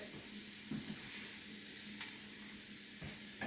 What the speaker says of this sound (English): We're going to take our onions, peppers, and throw those right in there right away, along with our garlic.